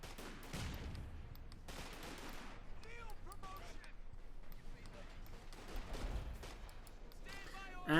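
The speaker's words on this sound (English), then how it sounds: "And we got an artillery strike here going down on the centre victory point to deny Barton access to the victory point." Gunfire and an artillery strike in the real-time strategy game Company of Heroes 2, distant bursts of shots and a few dull impacts, faint beneath a commentator talking throughout.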